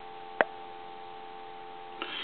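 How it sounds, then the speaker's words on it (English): Steady telephone dial tone from the handset of a Dragon telephone conversion, a constant near hum with a sharp click near the start and a softer click toward the end. "This will be dial tone from the handset"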